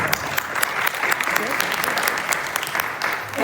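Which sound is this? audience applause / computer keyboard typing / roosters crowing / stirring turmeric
audience applause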